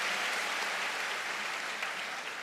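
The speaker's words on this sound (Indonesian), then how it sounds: "Tepuk tangan untuk Anda yang hebat ini." Dense audience applause from a large crowd of new university students at an Indonesian campus lecture, a steady wash of many hands clapping without pause, loud and filling the whole stretch.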